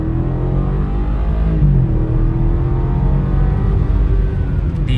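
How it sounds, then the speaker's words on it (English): A 2012 BMW 650i accelerating hard from a standstill toward 60 mph in comfort mode, the engine note steady and loud throughout with rising harmonic tones, heard close from inside the car with no talking. "we're gonna do another 0 to 60, but this time I have to do it in comfort"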